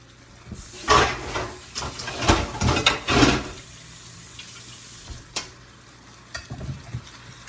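Coconut cream sauce with fish, lobster and shrimp being stirred in a pot, a close wet sloshing and scraping in a burst of strokes, then quieter simmering with a few isolated clinks and stirs, no talking.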